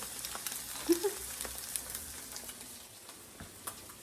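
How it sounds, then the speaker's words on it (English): Eggs fry in a pan with a soft, steady sizzle and a few faint pops and clicks, close and quiet, with no talking over it. "Making some eggs."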